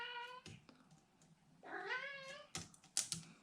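A cat meows a few times at close range, one long rising meow standing out, amid sharp clicks and tapping like keyboard typing, with no talking.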